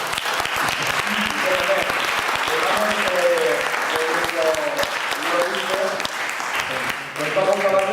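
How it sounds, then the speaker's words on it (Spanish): Strong, steady applause from an audience at a public event, loud and sustained throughout, with voices speaking faintly beneath the clapping. "vamos a despedir a Jorge Luis con un fuerte aplauso"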